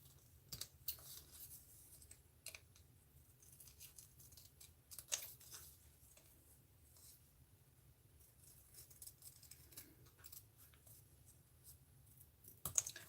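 Scissors snip and trim around a printable planner sticker, a few quiet, close cuts spaced across a hushed room with a low steady hum underneath.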